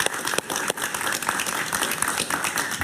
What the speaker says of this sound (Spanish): Un aplauso para Moisés, por favor